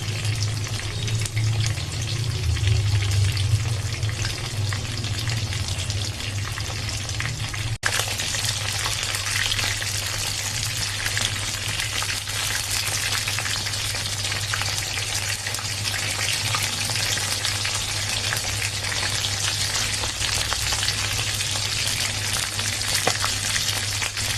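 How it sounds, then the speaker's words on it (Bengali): Catla fish fritters fry in hot oil with a steady, close, bubbling sizzle that runs without a break, a soft low rumble beneath, and a brief knock early on. "এই যে বড়াটা আপনাদের কাছে আমি রান্না করছি এটা কিন্তু কাতলা মাছের"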